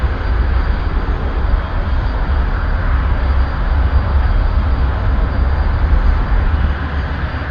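A T-45C Goshawk jet trainer rolls down the runway and rotates into a takeoff, its engine a loud, steady broadband roar that holds without a break across the whole stretch.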